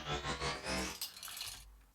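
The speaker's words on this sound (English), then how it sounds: "And that's how I got a majority of the transformer sound." Layered metallic clanks, chain rattles and ladder hits form a Transformers-style mechanical transformation effect, a dense loud two-second churn of clinking and whooshing metal that thins out toward the end, with no voices.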